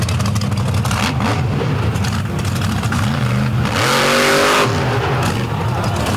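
A monster truck engine roars and revs hard during a sky wheelie at an all-star finals event, with pitch rising and falling in surges and a crowd-like wash underneath.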